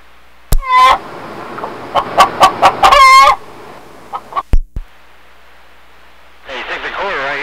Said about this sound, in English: Your chickens are loose, man.